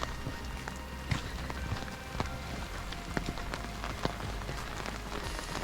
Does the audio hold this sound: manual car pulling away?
no